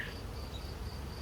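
Honey bees from a hive in 10-frame equipment hum in a steady, soft, continuous buzz at close range, with no talking over it.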